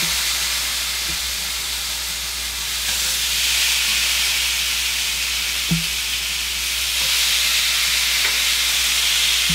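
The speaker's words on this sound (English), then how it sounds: "Listen to them sizzle." Steaks sizzle steadily on a hot grill, a continuous loud hiss with occasional faint pops and clicks.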